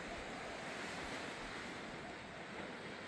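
Steady ocean surf washes onto the shore of Nusa Lembongan island, a dense, continuous roar mixed with wind rumble on the microphone, with no voices.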